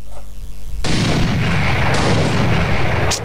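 Gunfire from a modded gun in Minecraft, one heavy booming blast that sustains as a loud roaring rumble for a couple of seconds and ends with a brief sharp crack, with no talking.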